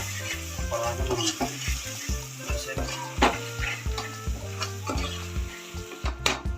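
Turmeric is stirred into onions frying in a pan for mutton curry, with rhythmic scraping strokes over a continuous close sizzle.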